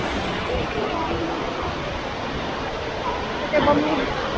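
Steady broadband rush of fast-flowing river water at the Marmore Falls in Terni, close and constant, with a slight splash near the end; a voice is faintly present.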